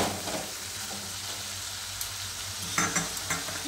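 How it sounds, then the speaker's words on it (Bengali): Sweet corn kernels tipped into a pan of sizzling tinda curry bring a continuous frying hiss, with stirring scrapes and a few sharper clatters and pops toward the end. "এবার সুইট কর্নটা দিয়ে দিচ্ছি।"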